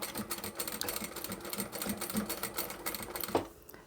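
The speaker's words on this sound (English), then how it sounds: "I do like to double stitch this." A sewing machine runs a rapid, steady rattle as it double-stitches a curved-bottom zippered wristlet pouch. It is close and continuous, then stops abruptly just before the end.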